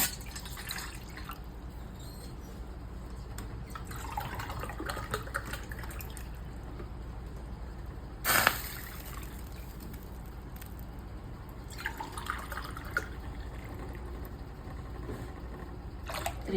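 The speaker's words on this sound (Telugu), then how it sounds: "దీంతో 3 గ్లాసెస్ వాటర్ యాడ్ చేసుకోవాలండి" Water is added to a pan for rava kesari, three glasses measured in, giving faint, scattered drips and trickles over a quiet background, with one brief, sharper splash or clatter midway.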